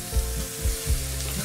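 Onion and chopped tomato are sautéed in a pan for Indian-style macaroni, with a steady close sizzle and a few low thuds and scrapes from stirring, and no voices.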